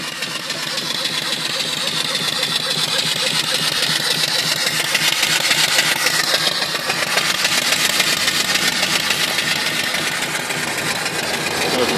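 A steam boiler engine with a 3-inch stroke runs at about 250 RPM, turning a 12-inch pulley that drives an alternator for off-grid battery charging. It gives a loud, steady, rhythmic chugging throughout.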